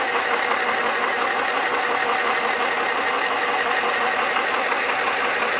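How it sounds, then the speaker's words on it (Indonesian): A portable mini sewing machine runs fast with a steady, buzzing motor whir, close and fairly loud, holding an even pitch throughout with no talking. "Suara mesinnya emang lumayan berisik."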